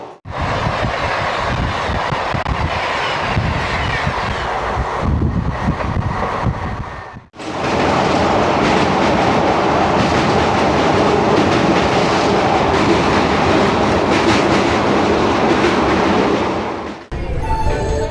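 Passenger train running at speed between Jajpur and Cuttack on the Bardhaman to Puri route: a loud steady roar with clickety-clack wheel rhythm and wind buffeting. It dips briefly near the middle and then surges back.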